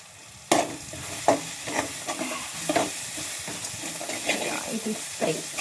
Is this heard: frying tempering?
yes